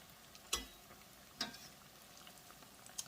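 Sweet potato hand pies fry in hot oil, giving a faint, steady sizzle with a few brief pops and spatters, heard alone without talk.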